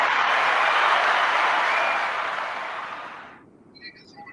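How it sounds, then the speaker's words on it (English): A studio audience applauds guests on a talk show, a dense burst of clapping that swells at first, then fades out over a few seconds before a quiet pause with faint noises. "Can we get a round of applause for our guest"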